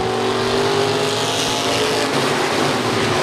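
Stock cars roaring around the US 30 Speedway oval at the start of a ten-lap feature, a loud, dense and continuous engine drone with no talk over it.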